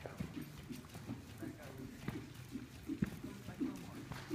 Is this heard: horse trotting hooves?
yes